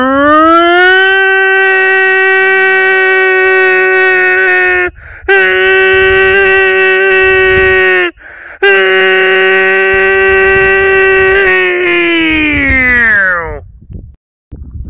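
A loud, sustained wailing tone from a person's voice imitating a tornado siren, held in long rising and falling blasts with brief breaks for breath, then trailing off.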